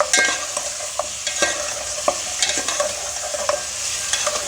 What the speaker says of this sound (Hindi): अब हम इसको गरम मसाले के साथ अच्छी तरीके से इसको फ्राई कर लेंगे